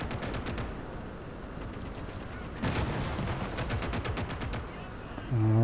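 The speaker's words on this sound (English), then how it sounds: "So the first thing I'm trying is artillery barrage." Artillery barrage in the World War II strategy game Gates of Hell, during a Finland campaign: rapid, evenly spaced blasts come in bursts over a low rumble, moderately quiet and distant-sounding, with a brief tonal chime at the end.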